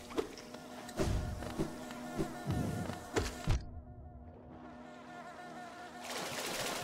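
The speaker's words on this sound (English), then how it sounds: "there are bees over that way as well" Buzzing of bees in the Hollow Knight video game, a steady insect drone running throughout alongside scattered thumps and impacts from gameplay, with an abrupt cut in part of the sound midway before it returns.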